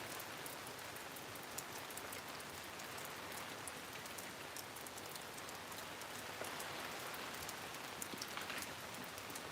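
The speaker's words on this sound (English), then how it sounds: "It's fucking raining out here in this bitch." Steady April rain falls outdoors, a dense, even hiss of drops pattering on surfaces that continues unbroken, with no voices over it.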